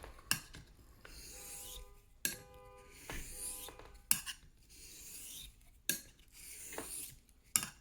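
An antique straight razor honed on a stone: soft, even rasping strokes repeat about every one to two seconds, each ending in a faint metallic tick, close and quiet with no voice.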